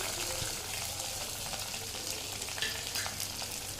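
Whole cumin, fennel, star anise and green chillies sizzling in hot oil in a pan for a Tamil oyster mushroom pepper gravy, a steady close crackle with occasional stirring scrapes and no voice.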